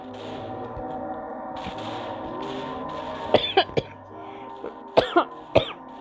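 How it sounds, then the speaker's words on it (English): Several coughs come in two short clusters over a low, steady background during a Roblox cartoon cat game. "I cough."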